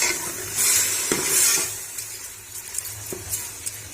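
Whole garam masala and yogurt frying in a pot, with a soft continuous sizzle and a few light scrapes of a stirring spoon against the metal, steady and close.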